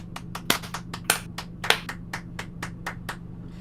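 Slow, scattered claps ring out one after another, about a dozen crisp hits spaced irregularly over a low steady rumble from a train simulator cab.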